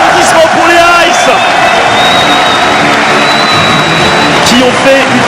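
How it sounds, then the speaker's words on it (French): At a League of Legends esports all-star match, a large crowd cheers and applauds in a dense, continuous roar, with whoops throughout and a caster talking over it. "Un tonnerre d'applaudissements pour les Ice"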